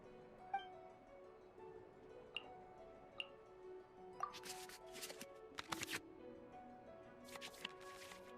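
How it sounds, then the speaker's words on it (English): Cards shuffling back into the draw pile in the Genshin Impact card game, heard as soft, quiet clicks and brief papery flutters in a few separate bursts with no voices. "we can select any number of cards in our hand to shuffle back into the draw pile"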